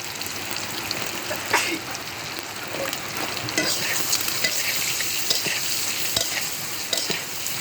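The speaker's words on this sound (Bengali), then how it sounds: "শুধু লবণ দিয়ে ডিমগুলো ভাজা হচ্ছে" Eggs frying in a pan with salt and turmeric, a steady close sizzle with scraping stir and spatula clicks throughout, no talking.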